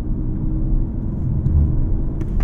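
A 2021 BMW M4 with a six-cylinder engine and a manual gearbox accelerates hard, giving a steady, loud low rumble and drone heard from inside the car with no talking.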